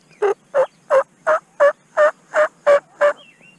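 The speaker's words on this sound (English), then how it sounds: "Got some turkeys just gobbling right across the field over here in the trees." Wild turkeys gobble from the trees across a field in open Kansas–Nebraska border country, nine evenly spaced gobbling bursts in a steady rhythm, moderately distant and clear against quiet surroundings.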